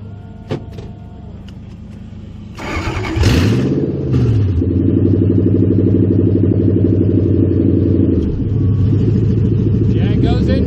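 A Toyota with a destroyed differential at the Knoxville dragstrip, shifted into reverse: a click, then the engine surges and runs loud and close with a steady droning hum and whine, while people talk nearby.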